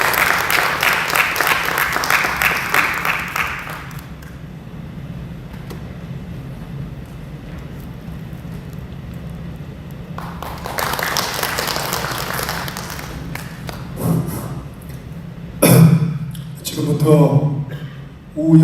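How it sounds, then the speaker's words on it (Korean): Audience applause and cheering at a book concert in a convention hall, a burst of clapping at the start, then quieter stretches with an announcer speaking and further swells of crowd noise later. "여러분 뜨거운 박수 함성 부탁드리겠습니다."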